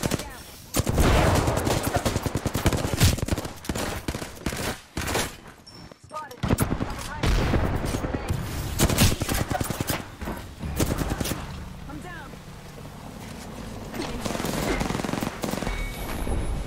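Rapid bursts of automatic gunfire crackle through an Apex Legends battle royale match, loud and near, broken by brief pauses and single shots, with a voice speaking over parts of it.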